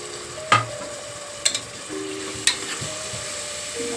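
Tomatoes fry in hot oil for a tomato rice dish with a steady close sizzle, while a spoon stirs and clanks against the pan three times.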